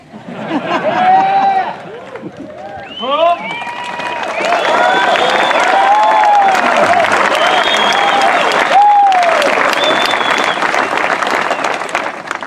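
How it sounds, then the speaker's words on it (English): Crowd at a South Dakota Officer Candidate School graduation ceremony applauds the 2022 graduates, sustained and loud clapping in a large hall, with cheers and whistles rising over it. "We'll do the applause"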